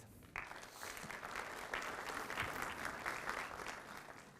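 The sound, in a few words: audience applause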